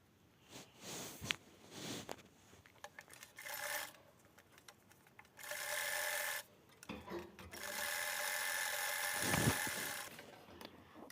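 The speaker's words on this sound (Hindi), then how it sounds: "अब टॉप सिलाई लगाएंगे।" A sewing machine top-stitching a zipper on a handbag runs in several bursts of steady whirring stitching, separated by pauses filled with light clicks and handling of the fabric.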